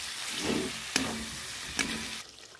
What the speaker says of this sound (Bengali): এবার টমেটো কুচিটা দিয়ে দেবো, ভালো করে নেড়ে নেব